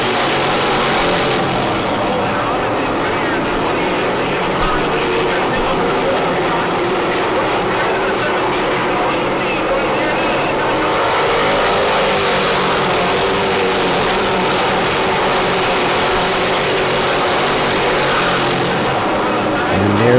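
Race cars roar around a short oval track, their engines a steady dense drone that swells as the pack passes, loud and continuous, with some of the cars sliding around on old, worn-out tires.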